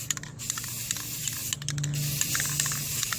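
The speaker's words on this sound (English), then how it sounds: "might want to spray this a little more." Aerosol spray paint hissing onto the frame of an 80cc motorized beach cruiser bicycle, close by, in short bursts with clicks of the nozzle and a longer steady spray toward the end.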